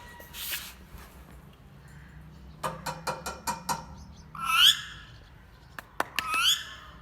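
A pet parrot gives two harsh, rising squawks, with a quick run of sharp clicks and taps between them in a quiet room.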